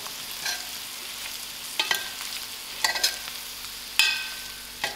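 Masala frying in a pan with green pawpaw pieces, stirred every second or so: a steady close sizzle broken by sharp scraping clatters of the spoon, with no talking.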